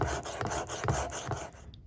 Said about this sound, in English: Keep grinding on that consistent angle until you create a burr